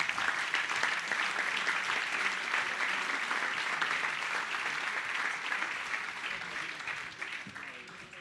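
A crowd at a sports club's opening party applauds steadily, a dense wash of many hands clapping that holds for several seconds before tapering near the end, with a voice talking faintly underneath.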